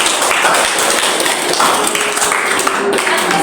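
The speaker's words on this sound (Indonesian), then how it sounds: "Tepuk tangan." A classroom group claps for a presentation on the istisqa prayer, steady dense applause that stays loud and even from start to finish.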